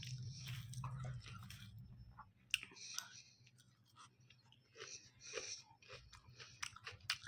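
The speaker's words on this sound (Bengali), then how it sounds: "শুকনো ভাত দিয়ে পাঁপড় খাই" Crisp crunching and clicking bites of papad eaten with dry rice, close to the mouth and fairly quiet, irregular chews over a low background hum.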